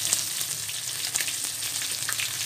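Food fries in a pan for a yellowfin dish, giving a steady, close crackling sizzle with small pops throughout.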